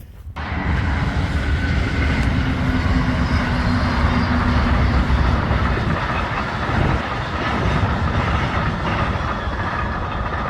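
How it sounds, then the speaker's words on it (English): A train rumbles past continuously with a heavy low roar and rattling wheels, steady and loud throughout, with no voices. "the 2 trains going by. You could just hear them honking in the background"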